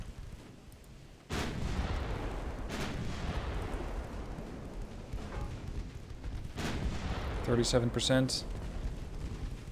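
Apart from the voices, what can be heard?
naval artillery gunfire in Ultimate Admiral: Dreadnoughts video game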